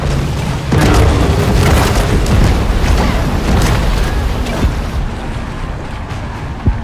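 Deep booming bursts of fireworks exploding in the video game Maneater, rumbling densely at first and then tapering off into scattered pops.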